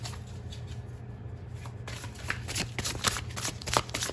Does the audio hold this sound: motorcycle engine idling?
no